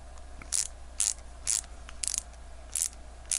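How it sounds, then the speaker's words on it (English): A screwdriver turns a screw to fasten the band on a Casio G-Shock Mudmaster GG-B100 watch, giving six short, bright ratcheting clicks at an even pace, close and alone. "take your screwdriver and just do the reverse of what we did to take it off."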